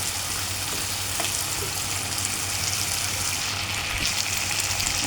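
Chicken pieces and vegetable bits, including pointed gourd seeds, fry in a pan with a steady, close sizzle and hiss that runs evenly throughout, with a few faint clinks of stirring and no talk.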